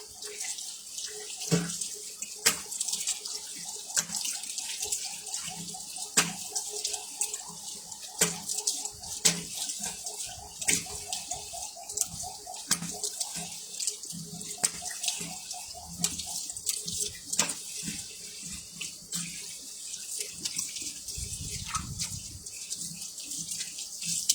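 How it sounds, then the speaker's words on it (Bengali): A tap runs steadily while a face pack is washed off at a sink, with a continuous close rush of water broken by small splashes and drips. "আমি ধুয়ে ফেলছি"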